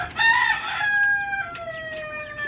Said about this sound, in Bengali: এ হচ্ছে আমার ছাদের উপরে মুরগির ফার্ম